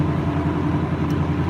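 A John Deere 8850 V8 tractor being driven on a farm, its engine giving a steady, close, low droning rumble with an even tone throughout and no voices over it.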